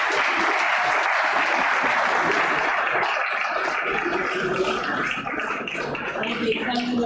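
Sustained clapping from a church congregation, loud and dense throughout, with some voices mixed in and a slight dip near the end.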